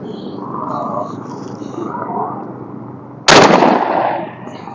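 Talking, then a single sharp blast from a double-barrel shotgun fired at skeet, loud and close, with a short ringing decay.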